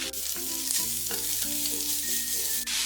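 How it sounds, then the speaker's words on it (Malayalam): Finely chopped medium onions sautéing in an iron pan, a steady close sizzle with scraping stirs of a spatula against the metal throughout, no voices. "2 മീഡിയം സൈസ് സവാള ചെറുതായിട്ട് അരിഞ്ഞതാണ്. അത് ഇതിലേക്ക് ഇട്ടിട്ട് വഴറ്റി കൊടുക്കാം."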